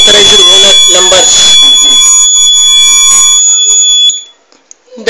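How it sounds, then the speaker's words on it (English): Fire alarm of a GSM home security system sounding as a loud, steady electronic tone with voices talking over it, then cutting off abruptly near the end. "If any fire occurred, it will give the fire alert. Yes, it is giving the alarm."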